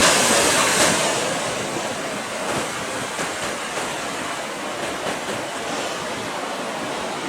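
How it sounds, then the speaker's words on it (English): Ocean waves breaking on the coast at Spanish Point, Ireland, a steady broad roar of surf with swelling crashes, loudest at the start and rolling on continuously. "So you're going to get a few breakers."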